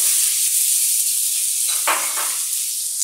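Chopped onions hit a hot pan for Filipino beef halang halang, with a loud, steady close sizzle that swells briefly as they are stirred in. No one speaks.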